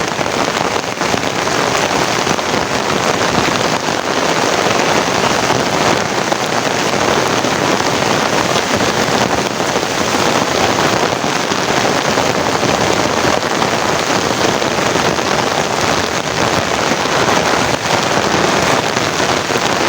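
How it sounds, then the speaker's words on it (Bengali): Heavy rain pours down outdoors in a dense, unbroken roar of drops hitting surfaces, loud and close throughout with no voices. "কি পরিমাণ যে বৃষ্টি হইতেছে, কি পরিমাণ।"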